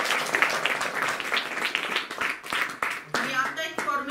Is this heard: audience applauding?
yes